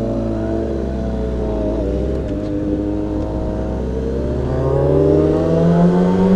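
A car engine revs up and accelerates, its pitch climbing steadily toward the end, heard close and fairly loud.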